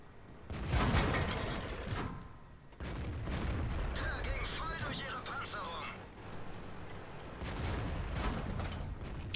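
Enemy tank cannon fire in World of Tanks, heavy booming shots with rumbling battle noise, mixed with people talking over them.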